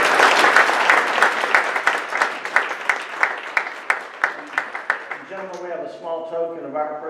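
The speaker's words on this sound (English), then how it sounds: "Let's give our panelists a round of applause." Lunch event attendees applaud panelists at a transportation gathering, a full round of clapping that thins into scattered individual claps before a voice returns.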